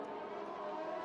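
An AlphaTauri Formula 1 car engine wails at steady high revs in a racing video game, a continuous buzzing drone held close and loud with no break and no voices over it.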